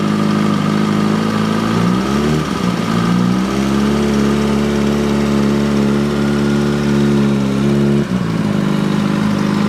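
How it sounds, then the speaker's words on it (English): A Kawasaki Ninja motorcycle engine idles loudly up close, rises in pitch as the clutch is released and the throttle eased open, holds a steady low drone, then shifts again near the end, with no talking. "So releasing the clutch slowly and then giving some little gas, twisting the throttle slowly."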